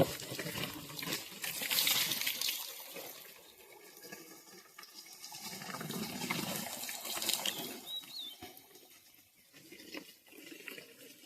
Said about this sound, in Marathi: थोडं पाणी देतात आता वरती.